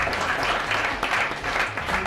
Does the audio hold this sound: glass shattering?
no